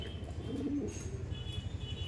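Madrasi pigeons coo at close range, a low, steady, throaty pulsing with faint chirps above and a constant background hum.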